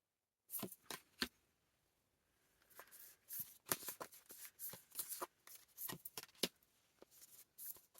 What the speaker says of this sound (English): Let me pull the rest of the cards and see what we can see.